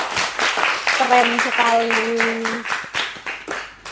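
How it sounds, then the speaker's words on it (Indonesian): An audience claps for a guest during an ITB student podcast recording, with a short burst of applause heard under people talking. "Boleh tepuk tangannya buat Kak Nola dong."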